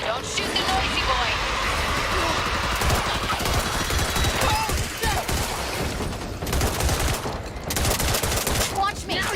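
Gunfire in the co-op zombie shooter Back 4 Blood on Veteran difficulty, with steady rapid bursts of shots running throughout under dense game noise and character voice lines.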